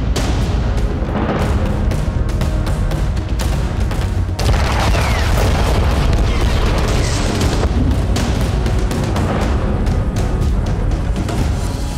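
Heavy booms and crackling blasts from strikes on targets in Russia and Crimea, loud and dense throughout, with overlapping detonations and rumbling reverberation layered continuously.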